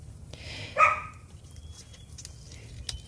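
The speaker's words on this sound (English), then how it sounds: "Sorry about those puppies. They're in their cage, and they are none too pleased." Puppies in a cage let out a single short, sharp bark at moderate distance, followed by faint rustles in a quiet room.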